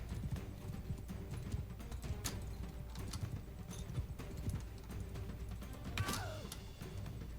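Horse hooves clip-clop steadily while riding in a medieval combat video game, a continuous near rhythm of hoofbeats under scattered impacts, clashes and a brief whinny.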